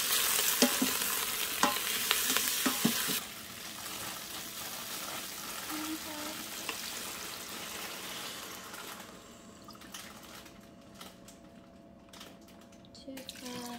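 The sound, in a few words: stirring soup ingredients together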